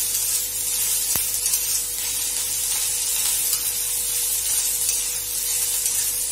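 Onions fry in a pan for farsan amti with a constant soft sizzling hiss, steady and unbroken, with one brief click early on and no voices.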